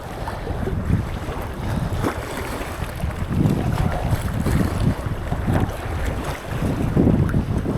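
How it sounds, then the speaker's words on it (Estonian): Gusty wind sweeps over choppy water at the shoreline during sea trout fishing from the shore, rumbling and buffeting the microphone in uneven surges, with waves washing beneath. "Vähemalt siin on lainet ja siin on kõike puhub peale"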